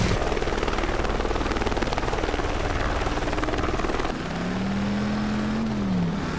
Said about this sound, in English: under fire from a goddamn news chopper